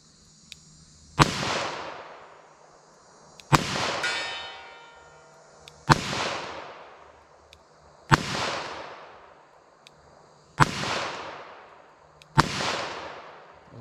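Six sharp gunshots from a full-size .38 Special revolver during a ballistic test, fired one at a time at a slow, steady pace about two seconds apart, each a loud crack with a ringing decay.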